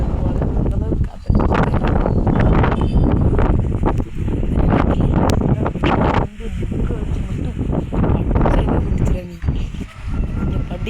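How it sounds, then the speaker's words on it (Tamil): Strong wind gusting through a village in the windy season, a steady loud broadband roar with shifting buffeting against the microphone that runs through the whole stretch, with only brief dips. "அந்தளவுக்கு காற்று"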